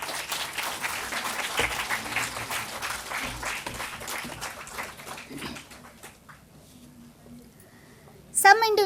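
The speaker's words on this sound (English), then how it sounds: "please join me in giving her a warm round of applause for our wonderful session" Conference audience at a cardio yoga health summit applauds a session speaker, dense sustained clapping that thins out toward the end before a sudden loud noise at the close.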